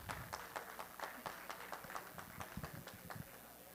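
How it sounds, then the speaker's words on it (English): Scattered clapping from an audience at a meditation summit, a loose, thin patter of hands rising and falling steadily with no voices over it, fairly faint and a little distant. "Applause, please."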